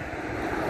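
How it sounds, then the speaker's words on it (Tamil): Cool wind on a mountain top at Jebel Akhdar in Oman, roughly 9,776 feet up, a steady broadband rush buffeting the microphone, brief and fairly loud with no voices. "நல்லா சிலு சிலு சிலுன்னு காற்றுங்க"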